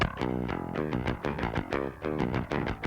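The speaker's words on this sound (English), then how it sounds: "yep, it's just a bass DI track." Bass guitar DI track with a little saturation for a 1990s-style death metal mix, quick plucked low notes in a busy, even run, dry and close with a slightly edgy tone.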